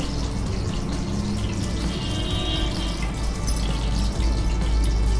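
Flattened rice (poha) being washed in water, a steady close splashing and trickling of water with soft swishing, no voices.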